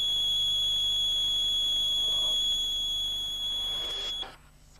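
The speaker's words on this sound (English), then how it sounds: "the warning light will start flashing and the buzzer will sound" A New Holland FX forage harvester cab warning buzzer sounds as a steady, high continuous tone lasting about four seconds before it stops, leaving quiet background.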